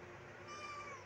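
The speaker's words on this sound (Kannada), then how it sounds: "ನಮ್ಮದು ಕ್ಯಾಟ್ ನೋಡಿ ಫ್ರೆಂಡ್ಸ್" A house cat meows once indoors at home, a single drawn-out, fairly faint meow lasting about a second.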